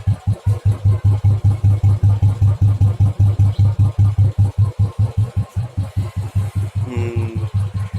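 A Royal Enfield motorcycle engine on Castrol Power1 oil runs close and loud with a fast, steady thumping beat that barely wavers over several seconds, and no one talks.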